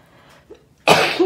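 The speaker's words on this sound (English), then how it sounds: "There's no stopping for sneezing." A single loud, close sneeze bursts out after a brief quiet intake of breath, ending abruptly.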